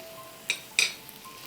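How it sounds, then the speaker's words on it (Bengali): Chicken sandwich filling with tomato sauce and ground black pepper being stirred in a pan, two sharp metallic clinks of the utensil against the pan over a quiet background. "এটা কিন্তু খুব ভালো করে নাড়িয়ে নিতে হবে।"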